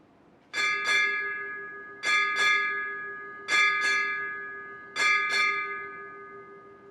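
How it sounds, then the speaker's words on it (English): A ship's bell rings eight times in four paired strokes at a submarine inactivation ceremony, clear and ringing, each pair fading before the next, with no voices. "Ring 8 bells."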